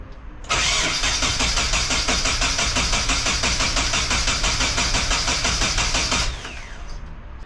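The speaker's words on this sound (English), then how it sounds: "It sounds really healthy when it's cranking." A Nissan 240SX engine cranks without catching: a loud, steady rhythmic churning of the starter runs for about six seconds, then stops abruptly, leaving a faint tail.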